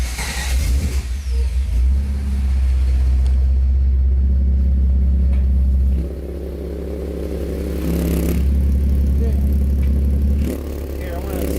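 A Datsun 280Z engine runs loud and close through a new exhaust with its adjustable muffler valve fully open, a deep steady rumble that swells as the throttle rises, eases near six seconds, then surges again.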